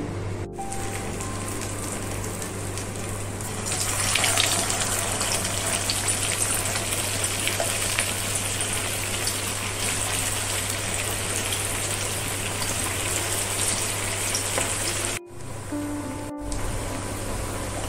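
Round dough pieces for a crisp tea-time snack deep-frying in hot oil: a steady, dense hiss of bubbling oil running almost unbroken throughout, with one or two brief breaks near the end.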